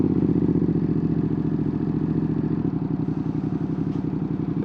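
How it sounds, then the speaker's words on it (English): A 2025 Ducati Panigale V2 S cruises through downtown streets with a steady, throbbing engine note. It pulses rhythmically and stays close and fairly loud, with a change in tone partway through as it rolls on. "Oh, I love hearing the pops on this bike."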